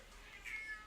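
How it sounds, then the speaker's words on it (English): A cat lets out one short, faint, plaintive meow, heard alone and brief. "Why are you meowing so pathetically and sad-like?"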